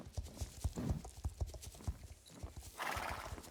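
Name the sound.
horse galloping hooves in the video game Star Stable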